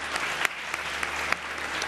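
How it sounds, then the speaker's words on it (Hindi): Studio audience applause at a televised Ramadan iftar show, a dense sustained wash of clapping from many hands with a few sharper claps standing out, loud and continuous throughout. "ताली होनी चाहिए।"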